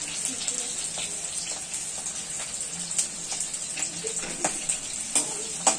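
Sliced garlic cloves fry in oil for chicken chilli, making a continuous hissing sizzle with light, irregular ticks and soft clinks of stirring, close by and steady throughout, with no speech.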